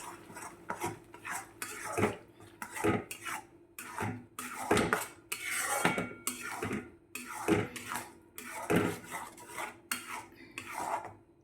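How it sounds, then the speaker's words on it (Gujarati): A spoon scrapes and knocks against a pan while paneer curry with tomato gravy is stirred and mixed, a steady close run of clinks and scrapes with no voices. "અને સારી રીતે મિક્સ કરી દઈશું"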